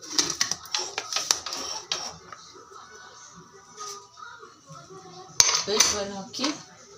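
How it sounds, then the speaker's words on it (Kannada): A metal pressure cooker lid is handled and shut in a home kitchen, with several sharp clanks and scrapes up close, a quieter stretch of small rattles, then a loud clack as it closes, followed by more metallic knocking. "ಕುಕ್ಕರ್ ಮುಚ್ಚಿಬಿಟ್ಟು"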